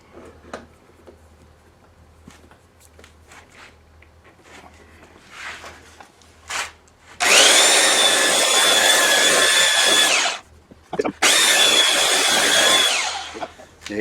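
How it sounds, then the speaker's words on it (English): Soft knocks and handling noises give way to two long, loud bursts of power sanding on a copper beech wood tray, separated by a brief pause. "I'm going to sand this again on this side."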